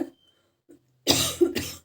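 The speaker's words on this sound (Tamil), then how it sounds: "சாரி, இருமல் வந்துடுது" A single person coughs sharply, then a second cough follows after a short pause, close and loud against an otherwise quiet room.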